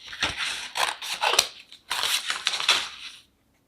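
Scissors trim closely around a printed paper label, giving several crisp, close snips and crunches in quick bursts before falling silent.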